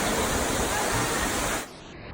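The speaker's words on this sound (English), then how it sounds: "It's the tallest indoor waterfall." Falling water from the tallest indoor waterfall in Singapore gives a steady, loud broadband rush that cuts off abruptly near the end, leaving a quieter hiss.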